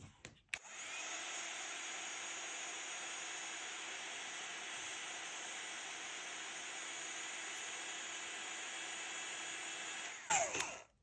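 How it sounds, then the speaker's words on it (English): Heat tool blowing hot air onto a bleach-treated craft surface, a loud, steady whooshing hiss that runs unbroken for about ten seconds before cutting off. "And then if you use your heat tool,"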